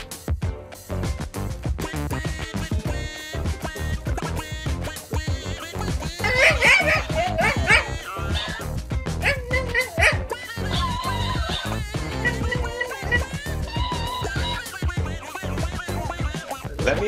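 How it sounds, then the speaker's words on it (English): A pug barks, yips and whimpers in a busy indoor scene, its sounds coming in bursts over a dense, loud background of mixed noise and music-like tones. "Who left the dog sleeping here?"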